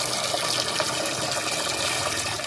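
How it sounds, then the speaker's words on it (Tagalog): Water pouring steadily into a cooking pot in a home kitchen, a continuous close, full rushing splash with no break and no talk. "Ang gagawin natin, lalagyan na natin ng tubig."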